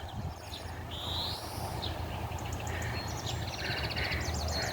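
Birds call and chirp faintly in short repeated phrases over a steady outdoor background hum, in Ukraine.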